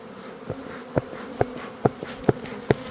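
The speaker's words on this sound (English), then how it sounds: "Film in the hive. Look how many bees there are." Honeybees swarm in an open hive, a close, low hum with soft knocks recurring about twice a second.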